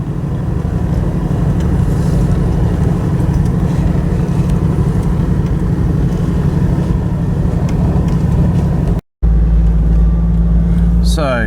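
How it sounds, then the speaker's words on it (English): A vehicle driving along a dark bush track at night in the South Australian Murraylands, giving a steady loud engine and tyre rumble that stops briefly and then resumes with a deeper drone. "So, a bit of night driving here."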